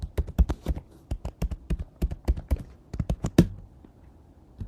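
A password is typed on a computer keyboard: roughly two dozen quick, crisp key taps in an uneven rhythm, close and clear, ending with one firmer keystroke before silence.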